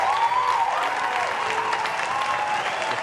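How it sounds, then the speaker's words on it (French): An audience claps steadily and continuously for an arriving guest, Nayou Inter, on a live television show, the dense applause filling the whole stretch with a faint tonal sound running beneath it. "Qu'on va demander d'applaudir."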